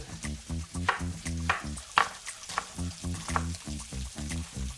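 Pieces of beef for stroganoff browning fat-side down in a skillet, a loud close crackling sizzle with rhythmic bursts of spatter throughout.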